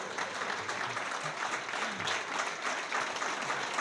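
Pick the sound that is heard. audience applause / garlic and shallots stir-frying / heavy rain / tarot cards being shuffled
audience applause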